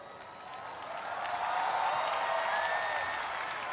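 A church congregation at a Jesus Is Lord anniversary gathering breaks into sustained applause that swells after a soft start and holds steady as a dense, even wash of many hands, with no voices over it.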